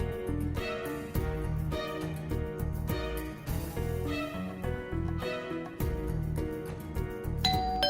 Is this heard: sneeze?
no